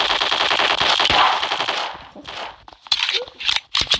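Rapid automatic gunfire in the Block Strike first-person shooter video game, a loud sustained burst of rattling shots that breaks into a few shorter separate bursts near the end, with no talking.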